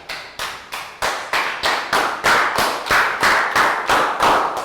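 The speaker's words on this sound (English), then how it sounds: "And a round of applause for everybody for doing a great job." A Year 3 maths class claps together in a slow, unified rhythm, about fourteen loud, evenly spaced claps growing slightly stronger, with no talking.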